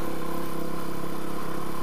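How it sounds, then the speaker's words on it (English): Several motorcycle engines idle nearby with a steady low rumble and mechanical ticking, holding constant throughout. "We got some motorcycles behind us."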